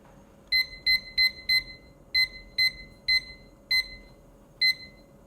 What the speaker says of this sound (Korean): 요리사님이 타이머로 10분을 맞춰줄래요?